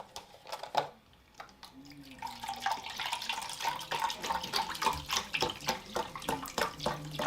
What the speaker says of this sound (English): So to this, we're gonna add about 2 cups of broth.